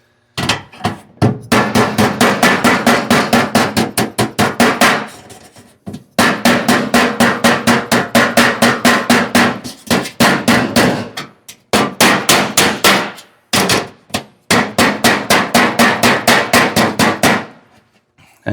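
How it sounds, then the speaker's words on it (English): Rapid, loud hammer blows from a tinsmith shaping 24 gauge steel eaves into a crescent detail, fired in fast steady bursts of many strikes with brief pauses between runs, close and alone with no talk. "This is how a tinner swings a hammer"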